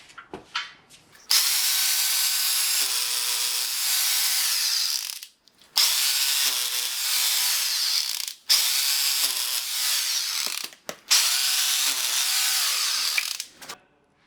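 A power drill whines loudly in several long bursts, stopping briefly between runs as it bores holes into a wall to mount a bike rack, with no voices.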